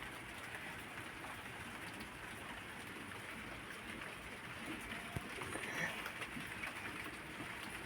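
Rain falls on a rooftop garden as a faint, even hiss that holds steady throughout, with no talking.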